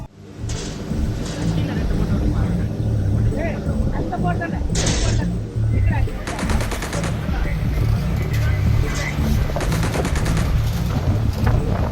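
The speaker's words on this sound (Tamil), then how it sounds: "காரைக்கால் மீனவர்கள் மீது இலங்கை கடற்படையினர் லேசர் விளக்குகளை அடித்து துப்பாக்கி சூடு நடத்தும் பதை பதைக்கும் காட்சிகள்" Sri Lankan navy personnel at sea fire guns at Karaikal Tamil fishermen while shining laser lights, producing repeated sharp bursts of gunfire over a heavy engine and wind rumble, with voices speaking throughout.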